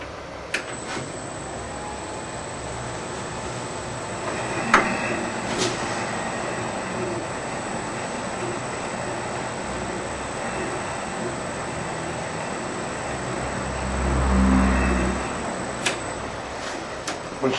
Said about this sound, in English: Now our nuts are engaged, so as soon as I start the lathe,